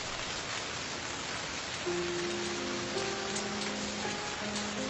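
Heavy rain pouring steadily in a dramatic scene, a constant hiss of falling water with faint musical tones rising beneath it and no voices.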